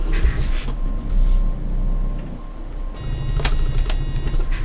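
Bus driving along a route in a German bus simulator game, with a steady low engine rumble and road noise throughout and a brief electronic beeping partway through.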